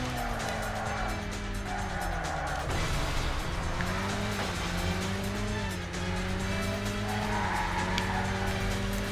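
Car tires screech and skid through long drifts in the Burnout racing video game, a loud continuous squeal over a revving engine whose pitch sweeps up and down, with no voices.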